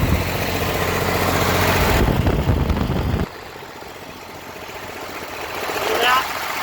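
A Cummins diesel swapped into an M35A2 military truck idles with a steady, low rumbling drone, louder at first and then settling into a quieter, even idle with a brief rise near the end.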